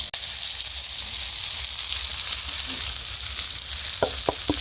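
Ground spices, black pepper and garam masala, sizzle and fry in a pan for egg curry, a steady close hiss throughout, with a few soft stirring taps near the end.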